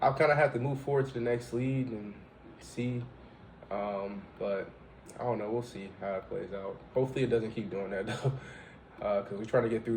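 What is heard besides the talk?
No everyday noises stand out.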